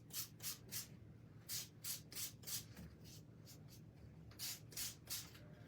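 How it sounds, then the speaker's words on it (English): Light hand sanding of a wooden cutout gives soft, rhythmic back-and-forth rasping strokes in quick groups, close by and quiet against low background hum. "I'm just gonna lightly sand."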